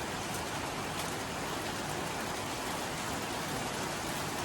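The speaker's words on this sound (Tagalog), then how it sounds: "Naririnig niyo po yung lakas ng ulan." Dense, steady downpour of heavy rain drumming on surfaces, loud and unbroken throughout, with no voices.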